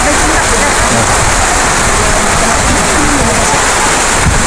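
Heavy rain falls steadily on surfaces in a rural neighborhood in Mahayag, Zamboanga del Sur, a loud, dense, unbroken patter filling the whole stretch.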